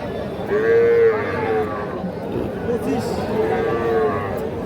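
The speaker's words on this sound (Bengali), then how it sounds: "এইগুলো কিন্তু এই পাশে এগুলো বকনা বাচ্চা।" Several young calves, including heifer calves, moo in overlapping, drawn-out calls over a steady background murmur at a cattle market, close by and fairly loud.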